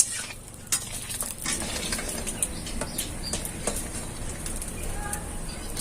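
Semolina gulab jamun sweets fry in hot oil with a busy, crackling sizzle, broken by a few sharp clinks and stirring scrapes from a utensil close by.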